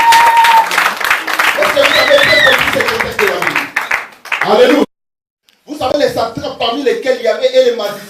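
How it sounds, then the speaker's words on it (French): A church congregation applauds loudly with voices and cheers mixed in. The clapping drops to near silence for about a second midway, then surges back just as strongly. "Acclamons très très fort la parole de Dieu."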